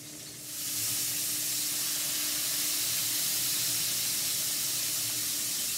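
Liquid poured into a hot pan to deglaze it bursts into a loud, sustained hiss of steam and sizzle that rises quickly after a quiet start and stays steady, close by, with no talk.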